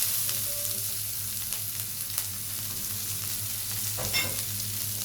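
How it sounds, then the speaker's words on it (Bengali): Chopped onion frying with cumin and a piece of cinnamon for a spinach dish, giving a steady hiss of sizzling with faint stirring scrapes throughout. "পেঁয়াজটাকে একটু ব্রাউন করে ভেজে নেব"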